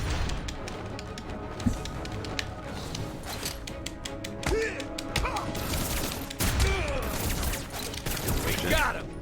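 Guards fire guns in a Batman Arkham video game, giving scattered sharp cracks and bursts over a busy game soundscape, with some voices heard faintly along with the shots.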